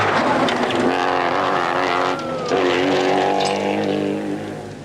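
Rally car 59, worn and sounding rough near the end of day 3 of the 1984 New Zealand rally, drives with a loud, steady engine roar that shifts pitch through gear changes, close and continuous with no voices.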